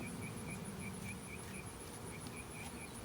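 Honey bees around a hive box make a steady, continuous drone, faint and unbroken, with a thin high whine running through it and no voices.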